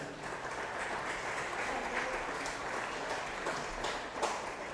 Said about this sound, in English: Let's give a round of applause for these players.